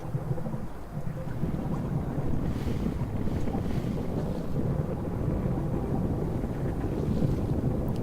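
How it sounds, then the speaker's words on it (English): Geothermal vents bubbling in the space-exploration game Astroneer, a steady dense rumbling churn with constant low roar, continuous and fairly loud throughout without talk. "I hear the bubbling of the geothermal vents."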